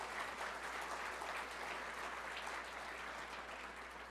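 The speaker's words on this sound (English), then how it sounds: "Please give them a round of applause and welcome them." Applause for sponsors at a luncheon crowd in Detroit, a steady, moderately distant wash of many hands clapping that holds evenly, then eases slightly toward the end.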